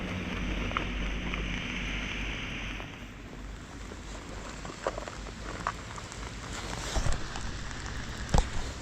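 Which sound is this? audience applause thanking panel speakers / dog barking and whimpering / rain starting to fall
rain starting to fall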